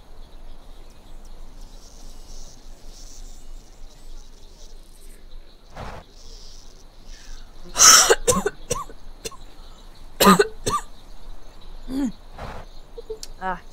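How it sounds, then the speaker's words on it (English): A man coughs several times in short, sharp bursts, with two loud clusters and a few smaller coughs and throat clearings over a quiet bed of crickets and birds from a zoo-building video game. "Got a cough."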